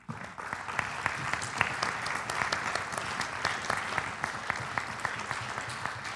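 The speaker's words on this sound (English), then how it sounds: "a round of applause for both our panelists" Steady, dense audience applause for two panelists at a public forum in Houston, many hands clapping evenly and continuously at moderate volume.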